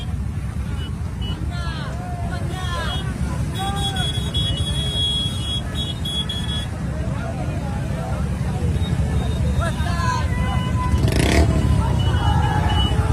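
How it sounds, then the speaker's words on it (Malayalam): A long rally of motorcycles streams past on a road during an Independence Day outing, engines buzzing and revving in overlapping waves, with horns and crowd chatter mixed in and voices talking over the traffic. "ഷിഹാബ്ക്കയുടെ പുറകിൽ ഒരു ബൈക്ക് റാലി തന്നെയുണ്ട്."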